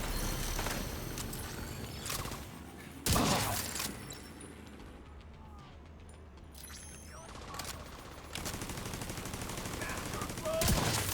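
Video game turret fire bursts out in repeated rapid volleys, loud and close, with quieter mechanical stretches between bursts.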